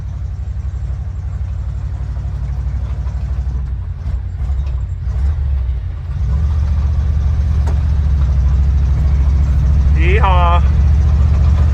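An old International Harvester Loadstar crew-cab truck engine runs steadily, a low rumbling idle that grows louder partway through, with a man's short whoop near the end.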